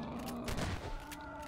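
Faint shotgun blasts in the horror game Nightmare House, with roughly two quick reports about half a second apart over a quiet, low background hum.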